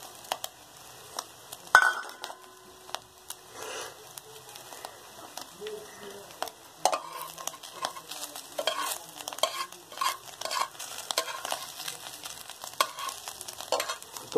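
Oil spooned over an egg frying in a pan, with a steady soft sizzle and frequent small clinks and scrapes of stirring throughout, fairly close and not loud.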